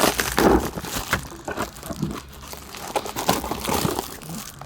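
A Temu shipping package being torn open, with crinkly plastic rustling, crunching and tearing in irregular bursts close by, fairly quiet and with no talking.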